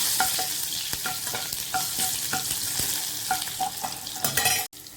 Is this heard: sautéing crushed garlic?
yes